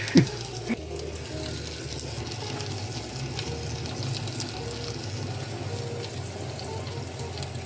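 Crayfish frying in a pan with walnut oil and butter, a steady close sizzle with light crackles and occasional clinks of the pan throughout, no talk over it.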